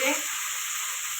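Red chili powder and fresh coriander hitting hot oil for spicy misal, a brief, steady close sizzle and hiss of frying throughout.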